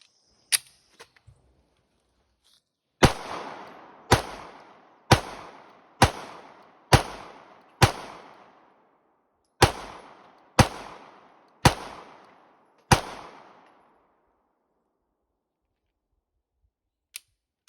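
Nine sharp, loud gunshots from a Polymer80 PF940V2 pistol ring out in a steady sequence with short echoing decays, with a brief pause partway through and small clicks before and after.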